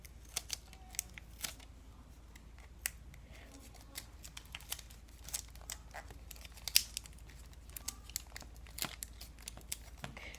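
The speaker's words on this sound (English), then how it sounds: "it'll pretty much be done once you tape this whole thing together" Tape being pulled and wrapped tightly around a paper pistol, a quiet scatter of small crinkles, snaps and rustles of paper and tape, faint and close with no talking.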